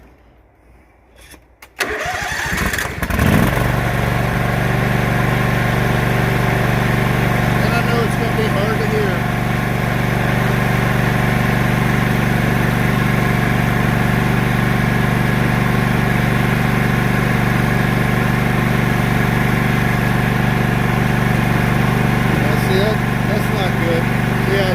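A John Deere GT235 lawn mower engine cranks and catches after a brief quiet start, then settles into a loud, steady idle. A person talks briefly over it.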